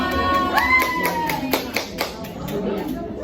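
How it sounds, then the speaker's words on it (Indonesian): A few sharp claps ring out in a classroom during a microteaching lesson, scattered hand strikes spaced apart under voices and a brief sung or drawn-out tone early on. "kita tepuk tangan untuk kita semua"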